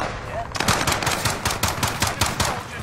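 Rapid automatic gunfire in the video game Call of Duty, a loud close stream of evenly spaced shots rattling on for about two seconds.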